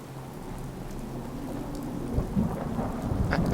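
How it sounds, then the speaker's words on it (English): Steady rainfall hisses and patters on surfaces in the Fallout 4 game world, with a low rumble of thunder swelling midway and rolling on through the end, with no one talking. "Oh, look at that! It's raining!"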